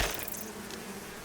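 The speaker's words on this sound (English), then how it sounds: "I'm trying to listen out for the bees over the stupid screeching" Bees buzz in the Icarus survival video game's arctic area, a faint continuous drone sitting under a hiss of other game noise.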